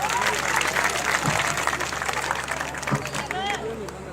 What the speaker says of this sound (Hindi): अपने बच्चों के लिए जोरदार तालियां